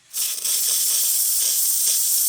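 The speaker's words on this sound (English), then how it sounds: "There's the steam." A Rancilio Silvia espresso machine's steam wand bursts into a loud, continuous hiss after a brief silence, holding a steady, close-up rush of steam.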